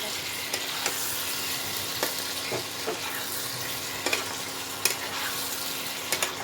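Continuous sizzling from a frying pan, with occasional scraping clicks of a spatula stirring, close by and moderately loud.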